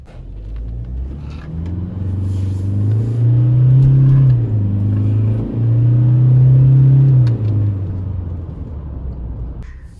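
A 2022 Toyota Hilux Revo pickup drives along with a steady engine rumble that swells and eases, with gear-like tonal hum across the middle of the stretch, close and loud with no talking.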